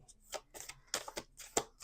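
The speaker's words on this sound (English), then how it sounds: "Let's do two more shuffles." A deck of tarot cards is shuffled in several quick riffling bursts, close and crisp, separated by short pauses.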